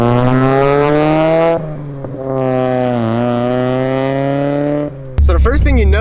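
A 1.8L Mazda Miata engine with aftermarket exhaust revs up loudly with a raspy, throaty exhaust note, climbing in pitch, dipping between shifts, then surging again close by.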